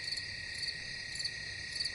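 Crickets chirp in a steady, continuous high trill with slight pulsing, faint and even throughout, with no voices.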